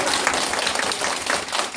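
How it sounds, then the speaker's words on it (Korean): A room full of people at a training session claps for one another, giving loud, dense, continuous applause that stays close and steady throughout. "서로에게 박수 한번 주세요."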